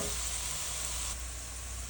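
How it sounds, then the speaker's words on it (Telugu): Onions and green chillies fry on a high flame in a pan, a steady soft hiss and crackle of sizzling oil, close and fairly quiet, easing slightly partway through. "దీనికి కొంచెం హై ఫ్లేమ్లో పెట్టుకుని వేయించండి"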